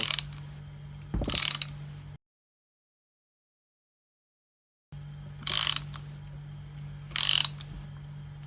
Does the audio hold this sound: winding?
yes